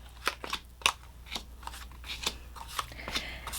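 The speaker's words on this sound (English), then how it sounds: "You'll put the cards down again." Playing cards are set down on a table during a children's number card game, giving a quiet series of light, crisp taps and shuffling slaps at an uneven pace, close up and with no talking.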